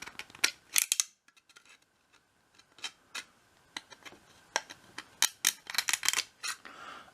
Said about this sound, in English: then we cut a little slit into it